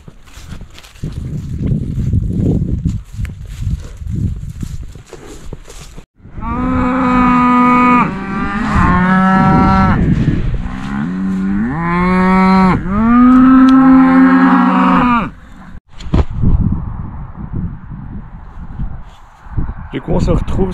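Cattle in a meadow give a series of loud, drawn-out moos that overlap one after another near the middle. Quieter rustling, footsteps and some talk come before and after.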